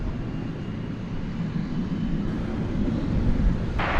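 Steady low, broad jet engine roar of an airplane taking off from runway 18 Left at DFW Airport at night, a continuous rumble that swells slightly toward the end, with no talk over it.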